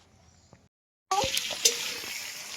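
Dal fries in a pan on an outdoor clay stove on a rooftop. After a quiet moment, a sudden sizzling hiss bursts in and continues steadily, with a few clinks and crackles.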